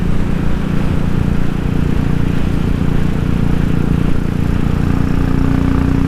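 A motorcycle engine fitted with a 45 mm pod filter and a crank case breather, a loud, steady low droning engine and induction roar that holds constant without revving or voices.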